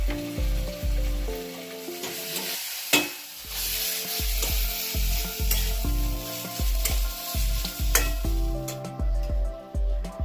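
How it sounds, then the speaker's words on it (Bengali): A banana flower mixture with green chilli, salt and garam masala sizzles loudly in a wok in a Bengali village kitchen, a steady frying hiss broken by repeated rhythmic scraping and stirring strokes. "মোচা মেখে রেখে দিয়েছি, এটা এর মধ্যে আবার কড়াইয়ের মধ্যে দিয়ে দেবো।"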